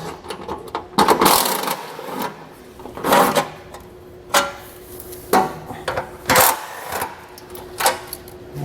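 A socket wrench ratchets out 10mm fasteners holding a heat shield under a 2022 Subaru Forester, giving several separate bursts of metallic clicking and clatter at close range with short pauses between them.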